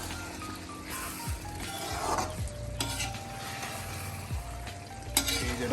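Potatoes and cauliflower sizzle in hot tempering oil as a spoon repeatedly stirs and scrapes them around the pan, a steady close frying hiss with irregular clinks and scrapes.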